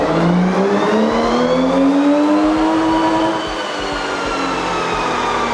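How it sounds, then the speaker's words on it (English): Lexus IS300 with a swapped 3UZ V8 spinning its wheels on a dyno in second gear, a loud, close engine rising steadily in pitch under load and holding a smooth high whine through to the end. "We're just gonna kind of spin the wheels, make sure it seems nice and happy."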